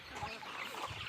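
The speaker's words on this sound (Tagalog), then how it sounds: "mo ni among manok diri sa bukid" Chickens on a rural farm give brief, faint clucks against a soft outdoor background.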